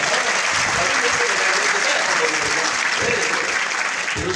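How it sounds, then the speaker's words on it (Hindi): A large group of children clapping together at a gathering, a dense, steady wash of applause sustained at an even level from start to finish. "पीछे भी जितने बच्चे बैठे ताली बजाओ ना।"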